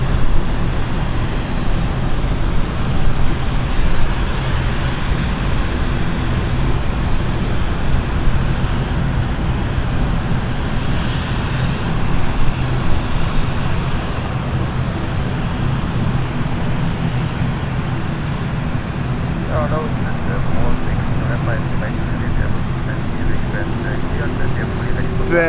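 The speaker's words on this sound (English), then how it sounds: "Inbound is our Frankfurt flight, City Flyer" A City Flyer jet inbound from Frankfurt lands at London City airport, its broad steady engine roar and rumble filling the scene continuously, with a voice talking over it.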